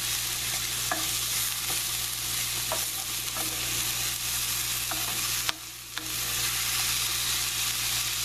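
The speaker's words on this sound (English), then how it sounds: "So that's sauteing nicely" Food sautés in a pan, a continuous near sizzle with faint clicks and scrapes of stirring scattered through it, and a brief dip in the hiss partway along; no one speaks.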